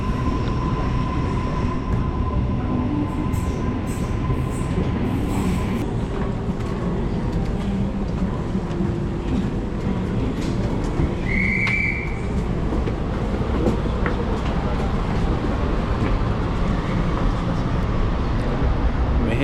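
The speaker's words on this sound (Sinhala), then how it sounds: "දැන් ඉන්නේ අපි ට්‍රේන් එකේ" Steady rumble of a moving double-decker train heard from inside the carriage, with rattling and occasional clicks and a brief high squeal midway.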